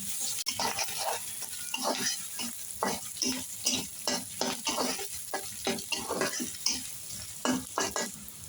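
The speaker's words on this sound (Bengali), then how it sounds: "এই যে এখানে বাদামের লাল লাল করে পেঁয়াজকে ভাই ভেজে নেওয়া হয়েছে" Onions frying in a pan while being stirred, rhythmic scraping strokes of the utensil repeating over a constant hot sizzle.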